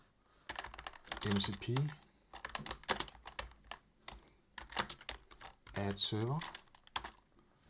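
Keyboard typing on a computer while entering a command, with quick keystroke clicks running under a man's steady instructional speech.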